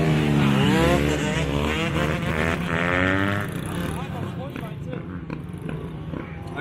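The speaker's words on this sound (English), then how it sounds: "Dirt bike, man. I can wheel it." A dirt bike engine revs up and down nearby during a casual ride in a parking lot in Richmond, Virginia. Its rising and falling whine is partly mixed with people talking.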